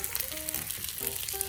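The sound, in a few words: large shrimp frying on a Camp Chef flat top griddle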